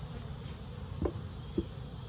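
Honey bees from a hive troubled by small hive beetles hum as a low steady drone, with two brief louder thumps or passes close by.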